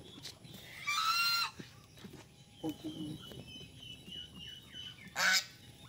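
Farm geese, including a brown female, giving loud nasal honks in short bursts, one long call near the start and another near the end, with quieter fowl sounds and faint talk between.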